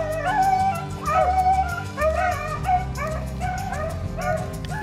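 Hunting dogs on a hot rabbit trail in Kentucky, baying and yelping in repeated rhythmic bursts, several voices overlapping close by and fairly loud, with no talk.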